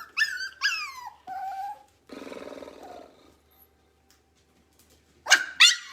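A puppy barks and growls outdoors in a series of loud, close yelps and a rough growling stretch, then falls quiet before two more sharp barks at the end; no one talks.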